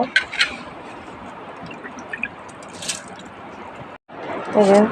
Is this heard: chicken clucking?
no